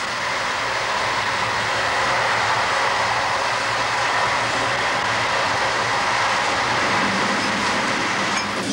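Steady rumbling of a Wagon-Lits car-sleeper train rolling along the rails, a continuous broadband drone that holds at a constant level with no voices.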